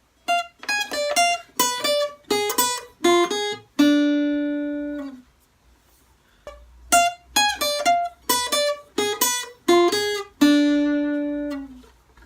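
Plucked guitar notes ring out one at a time in a slow melody, each phrase ending on a sustained low note, with brief silence between phrases.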